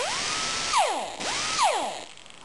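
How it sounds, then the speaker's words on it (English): An MT1863 90-degree air grinder with a bristle disc spins up twice in a row, each run a rising whine that settles into a steady high pitch before winding down, close and loud with no talk. "So that's your grinder, 90-degree grinder."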